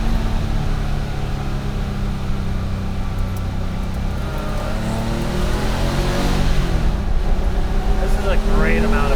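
A 1974 Porsche 911's engine drones loudly and steadily from inside the car as it pulls out of corners, its pitch climbing toward the end, with a voice talking over it.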